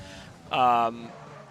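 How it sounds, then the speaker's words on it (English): Car brakes locking up during a Formula racing league video game race at Singapore, a short, pitched tyre squeal of under half a second that rises sharply over quiet background engine noise and then fades away. "So Gab is getting really greedy on the brakes and locking up a little bit."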